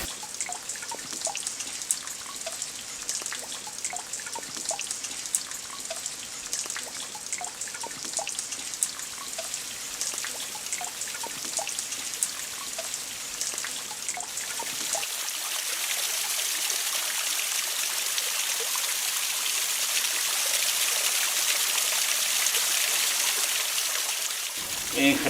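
Spring water trickles steadily down a small stream fed by a natural spring-pool in the Manchuela countryside, a continuous close babbling wash that grows broader and fuller partway through, with no voices.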